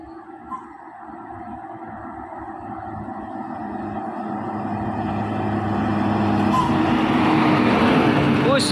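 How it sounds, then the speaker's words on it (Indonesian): A bus engine labours uphill on a steep road, a low droning roar that builds steadily louder and rougher as it climbs, with people talking faintly in the background. "Bus menanjak bosku."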